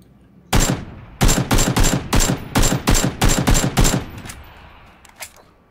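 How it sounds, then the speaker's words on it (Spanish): Repeated bursts of gunfire in PUBG, around ten loud sharp shots in an uneven rhythm, mostly close and alone, the last few fainter and trailing off. "¿De dónde está disparando ese güey que se escucha?"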